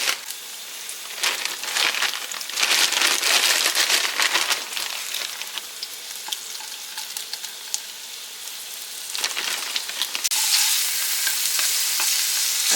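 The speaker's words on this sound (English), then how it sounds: "So I'm going to put that in this pan back here that's got some oil in it." Strips with a pepper and onion blend hit an oiled pan and burst into a loud, bright sizzle. It surges and eases as the food is stirred and flares up again near the end.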